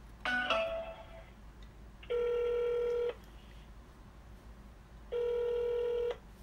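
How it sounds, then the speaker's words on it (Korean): A telephone call being connected, heard as a quick burst of dialing tones followed by two long, steady electronic ringback tones of about a second each, separated by a pause, over a quiet background. "그러면 제가 전화 통화로 연결해 보도록 하겠습니다."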